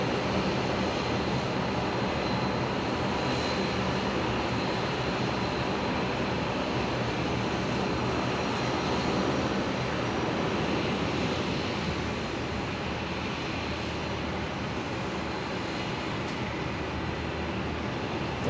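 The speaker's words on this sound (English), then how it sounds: "Qantas Link 1948 here, just about to touch down. Another Embraer from Albury." A QantasLink Embraer jet arriving from Albury touches down at Brisbane airport, a steady broad roar of engine and rushing air holding level throughout, fairly distant with no voices.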